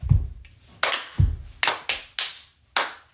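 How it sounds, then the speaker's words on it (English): Hands clap sharply about six times at close range, the crisp claps unevenly spaced with a couple of soft low thumps near the start and quiet gaps between. "I hear the extra clap."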